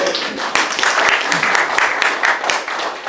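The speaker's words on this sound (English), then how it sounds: "big applause for her" Audience applause at a UN Mission of Germany networking reception, honoring a colleague: a dense, steady wash of many hands clapping, fairly loud, with a few voices mixed in throughout.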